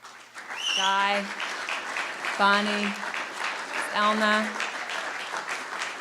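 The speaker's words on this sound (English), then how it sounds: "please stand up for a warm round of applause" Applause from a seated audience at a collegiate venture challenge event, a broad steady patter of clapping running under a speaker who reads out names between bursts.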